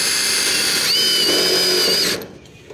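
A cordless drill whirs loudly, driving a screw through mesh gutter guard into the gutter edge, its pitch rising under load before the motor cuts off abruptly near the end.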